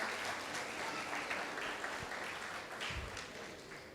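A church congregation claps hard and steadily for several seconds, a dense wash of applause filling the room with no clear speech over it.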